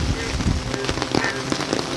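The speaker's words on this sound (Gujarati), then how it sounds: "હાલ વરસાદ ચાલુ છે." Heavy rain pours down in a village where fields and a pond are flooding, a dense close patter with scattered louder splashes over the whole stretch.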